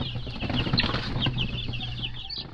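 Busy high-pitched chirping and peeping from a group of chicks, continuous and close, with occasional rustling and fluttering underneath.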